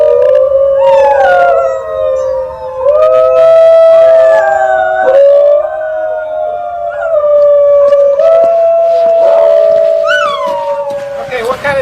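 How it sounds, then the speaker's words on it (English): A New Guinea singing dog howls loudly and close, its long wavering tones sliding up and down in several drawn-out, melodious rises and falls with no other sounds over it. "It's a New Guinea singing dog."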